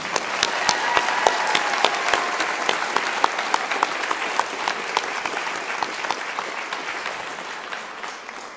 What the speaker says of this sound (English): applause for the wonderful Kim Stamper